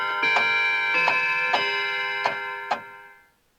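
A large grandfather clock ticks loud and close in a steady rhythm of sharp, ringing strikes that linger and slowly fade into silence.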